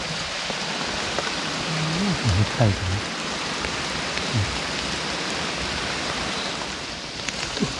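Steady heavy rain hisses loudly and continuously in a forest, with a faint voice or animal call briefly rising out of the downpour.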